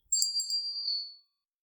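A single bright bell ding rings out alone as a subscribe notification sound effect, with a clear metallic strike that rings briefly and fades within about a second.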